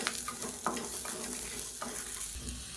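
Tamarind and chutney ingredients sauté in a pan. A soft, steady sizzle runs throughout, with occasional scraping stirs of a spoon close by and no talk.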